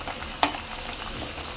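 Fritter batter dropped into hot oil for a first test piece, a sharp splash onset followed by a soft steady sizzle with a few small crackles, close and alone.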